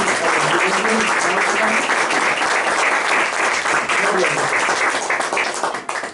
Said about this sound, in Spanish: fuerte ofrenda de palmas